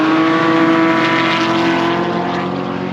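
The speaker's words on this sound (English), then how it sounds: "E92 M3 chasing the Porsche GT3 there." A BMW E92 M3 chases a Porsche GT3 around the Knockhill race track, a loud, sustained engine roar with a steady tone throughout and no voices.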